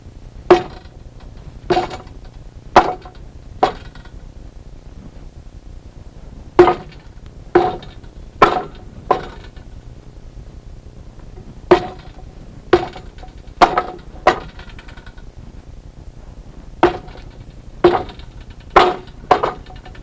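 Kicks thud against a wooden training dummy in the martial arts drill of slide in, front kick, side kick and reverse round kick, sharp knocking impacts grouped in quick bursts of three or four with short pauses between, close and clear over a quiet room.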